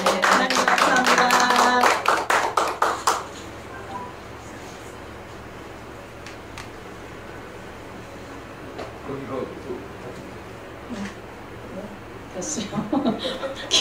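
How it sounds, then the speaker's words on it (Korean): Applause offered to God at a Korean church praise gathering, a dense burst of clapping with voices for the first three seconds, then fading into quiet room noise with scattered taps and murmurs. "하나님께 영광에 박수 올려드립니다"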